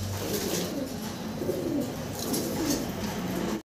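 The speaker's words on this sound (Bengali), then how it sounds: "এক পেয়ার মডার্না কবুতর দেখতে পারতেছি, জার্মান মডার্না" A pair of German Modena pigeons coo steadily and softly, with repeated low rolling calls over a faint, constant background murmur that cuts off abruptly at the end.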